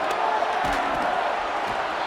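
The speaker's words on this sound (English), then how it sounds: "This crowd into it now as we get to third down." Stadium crowd in the Madden 25 video game roaring steadily on third down, a dense, loud wall of cheering throughout.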